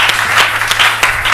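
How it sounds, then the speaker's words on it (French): A church congregation claps during a French-language service, with brisk, close, loud clapping in an uneven rhythm over a brief stretch. "Applaudissons le Seigneur."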